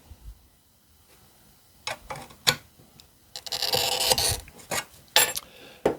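A handmade polygon cutter runs a glass cutter across stained glass. Short, sharp clicks and ticks come first, then a close, bright, gritty scoring hiss of a few seconds, followed by more quick clicks.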